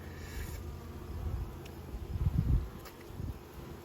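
Honey bees buzz around a hive during queen-rearing work, a steady low insect hum that swells and ebbs, louder near the middle, with no voices.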